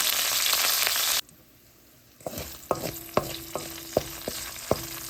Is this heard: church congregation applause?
no